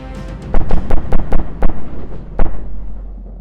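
A gun fires a rapid run of about ten sharp, loud cracks close by at a vulcanized rubber humanoid target, followed by one more shot after a short pause.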